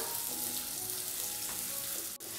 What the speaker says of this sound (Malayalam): ഈ ഉള്ളിയുടെയൊക്കെ ഒരു കളറൊക്കെ ഒന്ന് മാറി കിട്ടുന്നത് പോലെ ഒന്ന് വഴറ്റിയെടുക്കാം